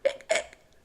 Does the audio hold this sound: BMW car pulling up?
no